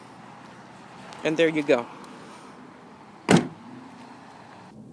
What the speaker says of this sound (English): To open it, you just gotta hit the button twice. It opens.